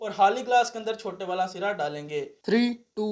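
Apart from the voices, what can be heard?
No everyday noises stand out.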